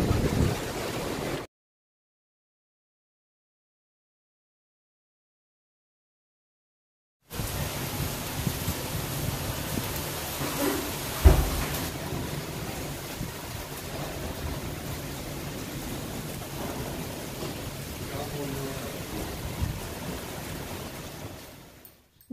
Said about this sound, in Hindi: ओ माय गॉड कितनी तेज आंधी आई है।